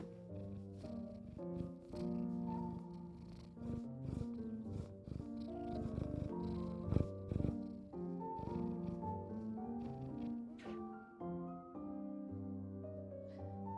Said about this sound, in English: There's a cat on my lap. You guys want to hear him?